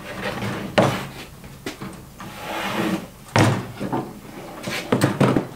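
A Harbor Freight 10-drawer metal tool cart is tipped over and laid down on its face, with a series of close, hollow thumps and clunks spread over several seconds as it settles.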